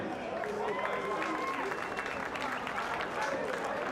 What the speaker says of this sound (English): let's please hear a big round of applause for our officials for the first grade grand final today